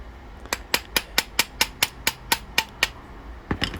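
A brass barrel being tapped out the back of a Diana 15 air rifle, a dozen sharp metallic taps in a steady, fairly quick rhythm, close and crisp, followed by a short double tap after a brief pause.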